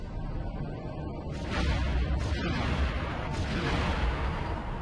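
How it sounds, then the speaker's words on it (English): Rapid laser-like ion cannon bursts from a starfighter in Star Wars Rogue Squadron III: Rebel Strike, during the Raid at Bakura, booming repeatedly over a dense rumbling battle bed, loud and continuous. "I need to use my ion guns."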